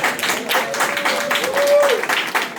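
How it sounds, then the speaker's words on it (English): Applause at a nursing pinning ceremony for a faculty mentor, a crowd clapping in uneven bursts for under three seconds, with a short vocal tone rising above it. "we should all give her a round of applause"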